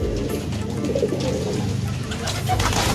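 Losdor racing pigeons coo softly and repeatedly, close by, over a steady rushing background noise.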